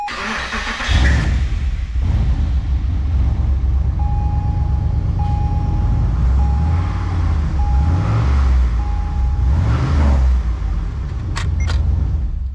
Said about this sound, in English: So we're going to turn this car on. We're going to try to run it here for a second.